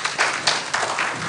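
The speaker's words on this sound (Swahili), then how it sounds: "Makofi mengi tafadhali." Audience applause at a professionals' diversity conference and exhibition, a steady wash of many hands clapping with small swells, filling the whole short stretch without speech.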